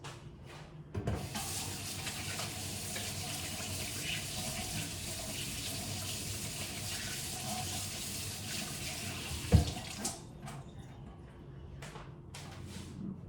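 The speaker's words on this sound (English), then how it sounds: "Let me wash my hands first." Hands are washed under a running kitchen tap: a steady close stream of water splashing into the sink for about nine seconds, a sharp knock near the end, then the flow shuts off into quiet with a few small clatters.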